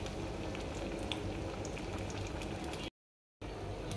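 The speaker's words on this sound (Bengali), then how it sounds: "এক পাশে চা হচ্ছে, আলু চপ ভাজতেছি।" Tea bubbling on a boil beside potato chops frying, a soft steady simmer and faint sizzle, close but quiet, with a brief dropout near the end.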